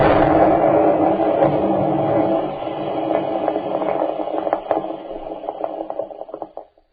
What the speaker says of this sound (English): And then there is a tremendous explosion.